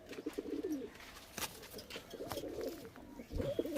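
A pair of medium-sized black-and-green Suleman Kakji pigeons coo in repeated low rolling phrases, close by, with little else around them.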